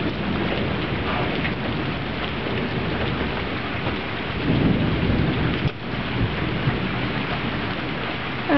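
Thunderstorm on 4 May 2010: steady heavy rain patters on surfaces throughout, with low rolling thunder swelling in the middle and a sharper crack near the end.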